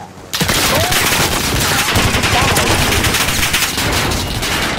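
Dense, rapid bursts of video game gunfire crackle continuously at close range, a sustained loud barrage with no pauses.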